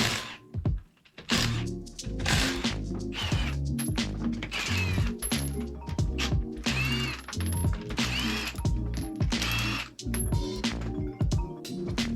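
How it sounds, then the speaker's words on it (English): A VW MK7 GTI being raised on a jack for a clutch and transmission job: repeated close mechanical ratcheting clicks in bursts with short pauses, loud and rhythmic, with no voices. "I'm jacking it up all the way here"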